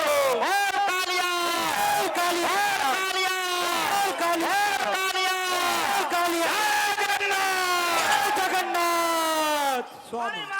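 A large crowd at a Holi religious gathering in India cheers and shouts together, many voices raised in sustained loud chanting with no pauses.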